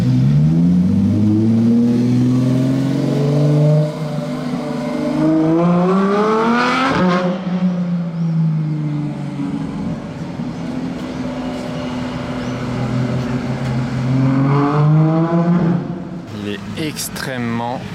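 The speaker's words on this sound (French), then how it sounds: "Celle-ci, elle a un échappement Gintani." A Ferrari F40 with a Gintani exhaust revs hard in Monaco, engine rising and falling through several loud, rasping climbs heard from inside the cabin, ending with a brief high squeal.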